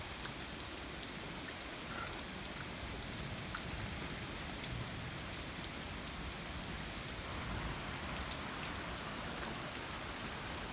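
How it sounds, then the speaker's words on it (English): Steady rain falls on a hot summer day, a constant dense hiss of drops hitting surfaces, close and even throughout with no voices. "But it's getting some rain today, I think."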